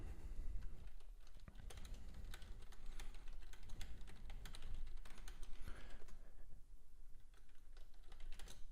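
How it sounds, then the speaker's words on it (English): Rapid typing on a computer keyboard fills the room with irregular clicks and clacks, close and fairly quiet, running steadily with no talking. "If you do hear typing, that's just me"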